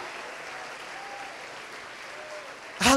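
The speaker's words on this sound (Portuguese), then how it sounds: "Pode aplaudir o Senhor." A church congregation applauds faintly and steadily at a distance during a sermon, ending with a sudden loud, close burst.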